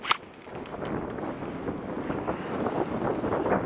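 Wind blows across an outdoor airsoft field, gusting against the microphone in a steady, broad rush that swells slightly toward the end, with no talk.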